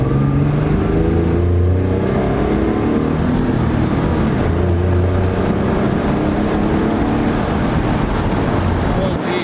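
An Infiniti G37 sedan fitted with dual intakes accelerates in second gear, its engine drone loud and close for the whole stretch, with a deep, continuous rumble.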